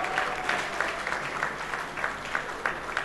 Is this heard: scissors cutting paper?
no